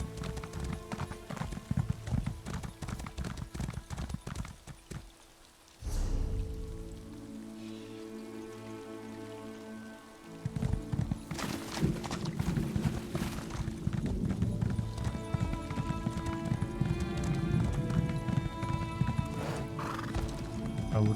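Horse hooves gallop in a steady clip-clop while riding in the video game Elder Scrolls Online, with loud whinnies and neighs, a brief lull around the sixth second, and light rain-like patter underneath.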